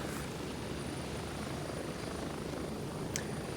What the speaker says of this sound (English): luckily it's only a short helicopter ride.